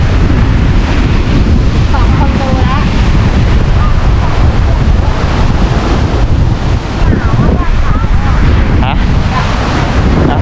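Loud night surf crashes continuously at the sea near Ang Sila, Chonburi, Thailand, buffeted by heavy wind noise on the microphone, a dense, roaring wash of waves with no clear breaks.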